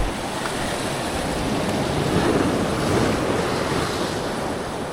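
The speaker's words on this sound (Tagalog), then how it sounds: "Sakto yung 2 malaking alon eh." Ocean waves surging and crashing in a continuous loud roar, with wind buffeting the microphone; no voices.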